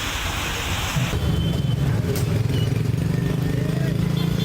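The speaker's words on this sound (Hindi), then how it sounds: "देर रात तेज आंधी के साथ बारिश हुई। बारिश के साथ ओले भी गिरे" Heavy rain with hail during a late-night windstorm in Agra, India: a loud, dense, steady wash of pounding rain and hail with a low rumbling undertone, continuous throughout.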